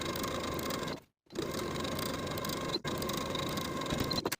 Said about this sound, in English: I'll go ahead and edge stitch close to the inner fold all the way around.